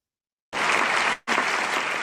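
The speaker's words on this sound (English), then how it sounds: "This is an audience in Budapest applauding after a performance." Audience in Budapest applauding after a performance, a dense burst of many hands clapping close and loud, with a momentary break before the clapping resumes at full strength.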